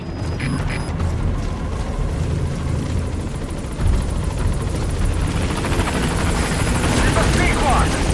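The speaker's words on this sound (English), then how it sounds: "I'll send a chopper." A helicopter arrives in Metal Gear Solid V: The Phantom Pain, a loud steady rotor roar with rumbling wash that grows slightly nearer over several seconds, with a voice speaking briefly near the start.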